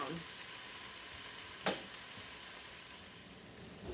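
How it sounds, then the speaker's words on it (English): Onion sautés in a pan on its way to golden brown, giving a faint, even, hissing sizzle throughout with one brief sharp clink partway through and no voices. "I'll let that saute for a minute"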